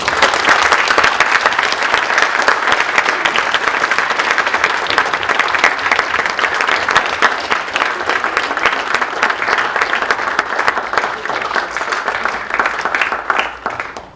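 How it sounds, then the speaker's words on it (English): A large audience gives a sustained round of applause after a keynote address at an MLK event, dense steady clapping filling the room for about fourteen seconds before tapering off at the end. "Round of applause one more time."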